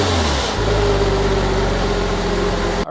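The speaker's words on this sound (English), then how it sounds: "I'm gonna go give you guys some revs so you can hear how this car sounds stock" A stock Porsche 986 engine runs loudly up close, its droning tone climbing and holding steady as it revs, then cutting off abruptly at the end.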